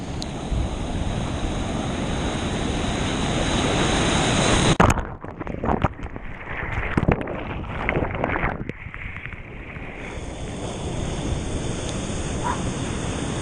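Pacific Ocean surf rolls onto the Mexican coast near Huatulco, a loud, continuous wash of breaking waves with heavy wind buffeting the microphone and a short gust-broken stretch midway.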